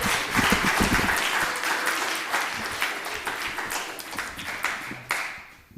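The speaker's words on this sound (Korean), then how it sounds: "우리를 구원하기 위해 태어나신 아기 예수님께 우리 큰 박수 드리겠습니다" A church congregation at a Christmas service claps loudly for baby Jesus, dense hand claps with a few sharper taps standing out, the applause thinning and fading away over the last second.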